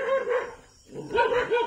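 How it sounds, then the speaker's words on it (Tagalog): A dog barks aggressively at night in a rapid series of close, loud barks and growly yips, with a brief pause before another burst. "Gigil na gigil yung aso guys."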